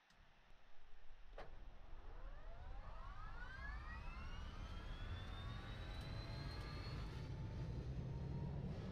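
An Epic 1000 turboprop engine spools up from start, its whine climbing steadily in pitch over a loud rushing roar that holds close and constant to the end.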